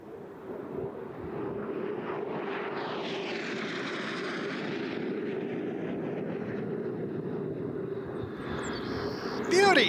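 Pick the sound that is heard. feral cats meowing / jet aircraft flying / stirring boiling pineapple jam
jet aircraft flying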